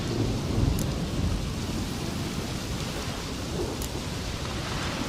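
Steady rain pours with low, rolling thunder in a storm in the video game The Witcher 3, a dense wash of sound with no speech.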